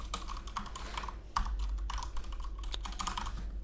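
Computer keyboard typing while coding a music bot, a steady stream of close, quick key clicks with brief pauses and no talking.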